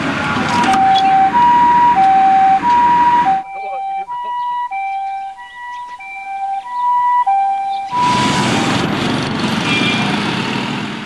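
A two-tone ambulance siren wails in a steady alternating pattern, loud and close, with a quieter stretch in the middle where the tones continue more faintly.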